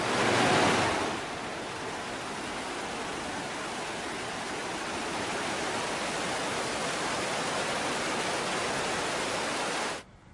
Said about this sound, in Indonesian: Luapan banjir Sungai Ciliwung menerjang ruas Tol Jagorawi di Desa Teluk Pinang, Ciawi.